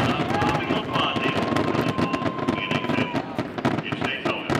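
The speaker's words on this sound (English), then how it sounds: "largest fireworks display going off in the back" A loud fireworks display bursts at Daytona International Speedway after the Coke Zero 400 race, with rapid continuous crackling and booming pops under a commentator's talk.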